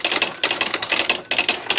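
Smith Corona H series electronic typewriter typing in bold print mode, a rapid loud run of crisp key strikes with brief pauses between bursts.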